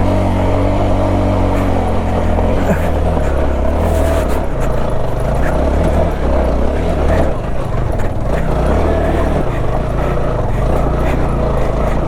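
A TVS Apache RTR 200 motorcycle engine labours close by as it climbs an off-road slope, a continuous loud drone rising and falling with throttle changes under wind buffeting.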